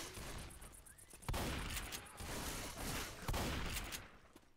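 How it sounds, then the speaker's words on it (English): Gunfire rattles through Left 4 Dead 2 in rapid bursts, a dense crackle of shots with a couple of sharper heavy blasts, fairly faint and with no talking. "I was getting shot in the back."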